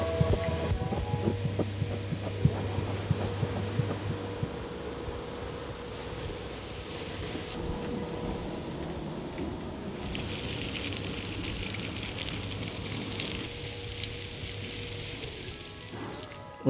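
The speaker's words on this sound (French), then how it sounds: "On va lancer la machine." Rockwool Rockin Bag insulation blowing machine running steadily, a continuous droning hum and airy rush with faint rattles throughout, loud and close.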